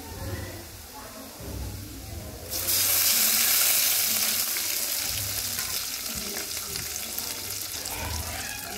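Onions hit hot oil left over from frying fish and set off a sudden loud, hissing sizzle that holds steady. A voice is faintly heard before the burst.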